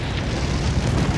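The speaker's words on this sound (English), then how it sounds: "There's a grenade for them." A video game grenade explosion: a loud, rolling blast with deep rumbling low end that sustains through the brief moment, with no voices over it.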